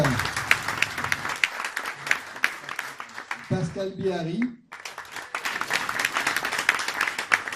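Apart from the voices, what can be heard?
audience applauding at chess tournament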